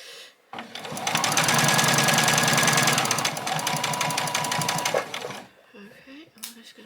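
A sewing machine stitching a bag piece, one continuous close burst of fast rhythmic needle clatter lasting about five seconds before stopping, followed by faint handling sounds.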